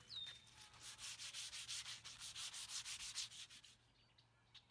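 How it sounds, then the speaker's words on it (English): Sandpaper of 100 grit rubs back and forth over a wooden garden tool handle, a quick run of rhythmic rasping strokes, close and fairly faint, that stops near the end, with a brief bird chirp at the start. "I'll go over it a second time with the 100 grit."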